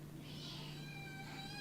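A cat gives a strained, odd meow, a single drawn-out harmonic cry with a steady low hum beneath it, close and fairly quiet.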